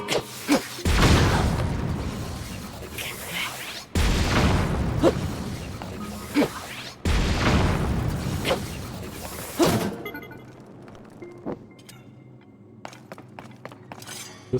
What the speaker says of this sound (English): Pretty sure this is the cannon.